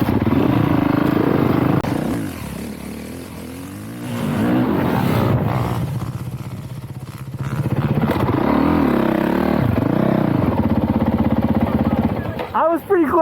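A motorcycle pulling a wheelie at a ranch in Wynnewood, Oklahoma, its engine revving hard and close, rising and dipping in pitch over several seconds, with people talking over it.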